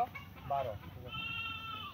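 Goats on a small goat farm bleat nearby, first a short cry and then a longer, wavering one, over faint background murmur.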